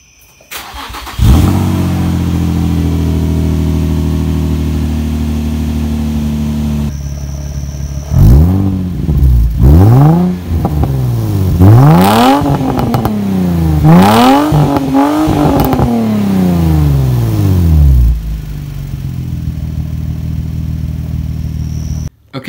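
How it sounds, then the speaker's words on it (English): A Vaydor kit car with a newly finished exhaust cold-starts loudly and settles into a deep, steady idle, then revs up and down in several rising and falling pulls before dropping back to idle and shutting off. "All right, now time for the cold start."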